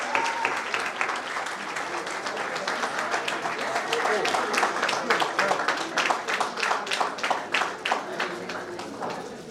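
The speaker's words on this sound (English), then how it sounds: "Request you to cheer for their efforts and sincerity" A speech competition audience claps for the winners, scattered applause building into loud, rhythmic clapping with distinct individual claps standing out, while faint talk carries underneath.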